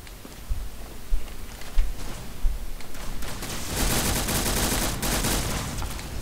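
Gunfire in the online shooter game Arsenal: bursts of rapid shots that build into a dense, loud, sustained volley toward the end, with scattered heavier cracks early on.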